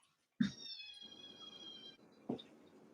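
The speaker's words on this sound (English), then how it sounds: "Oh, I heard the meows." A cat meows indoors: a short cry, then a long drawn-out tonal meow lasting over a second, and another brief meow at the end, moderately close.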